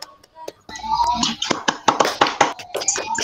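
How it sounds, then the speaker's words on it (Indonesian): A primary school class clapping hands together, an irregular patter of many claps that settles into a rhythmic series of sharp group claps, close and fairly loud, with children's voices mixed in. "Ayo tepuk tangan dulu."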